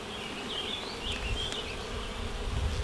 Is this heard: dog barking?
no